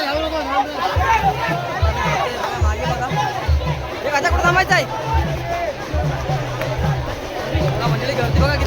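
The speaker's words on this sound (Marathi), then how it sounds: "मंडळी गर्दी बघा किती आहे इकडे." Dense crowd chatter and hubbub at the Chhabina palanquin festival of Jholai Devi in Mahad, with many overlapping voices close by, steady throughout, and people talking and calling out in the throng.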